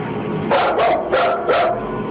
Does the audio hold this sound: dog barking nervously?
yes